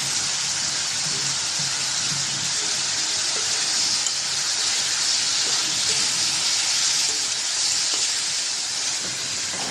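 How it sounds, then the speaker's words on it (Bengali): Chopped onion sizzling in a pan with small shrimp and green chilli gives a steady, close, unbroken hiss of frying oil that runs the whole time with no talking. "পেঁয়াজ কুচি দিয়ে দিলাম পেঁয়াজটা একটু ভেজে নেব চিংড়ি মাছের সাথে দিয়ে দিলাম কাঁচামরিচ"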